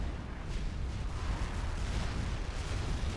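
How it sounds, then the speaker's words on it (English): Heavy Noah unit cannon fire from a Supreme Commander 2 battle, a continuous low rumbling roar of repeated booming shots with no clear gaps between them, loud and dense throughout. "this is where the Noah unit cannon really does some good work"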